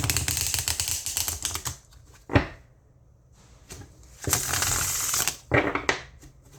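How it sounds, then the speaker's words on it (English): Tarot cards riffle and shuffle in quick bursts, crisp papery ruffling close by, with a short pause and a sharp snap between shuffles. "One more shuffle."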